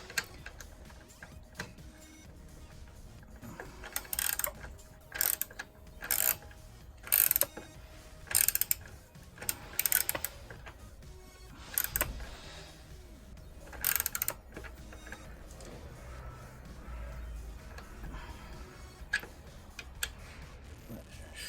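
Ratchet tightening a bolt with a locking nut on a Ducati Monster 1200 S motorcycle: bursts of rapid metallic clicking in short separated runs, close and fairly clear over a quiet workshop background.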